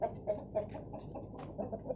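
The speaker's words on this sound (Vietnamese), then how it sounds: "Đây là ông chú con nuôi gà nè các bạn. Nuôi gà vừa lấy trứng ăn vừa bán con luôn ha." Farm chickens cluck in short, repeated calls at a steady rhythm, moderately close, with no talking.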